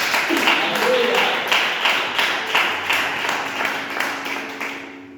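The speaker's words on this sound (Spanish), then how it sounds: "¿Cuántos dan un fuerte aplauso a nuestro Dios?" A church congregation claps steadily in a dense, rhythmic burst of applause that continues for several seconds, with a voice heard faintly underneath.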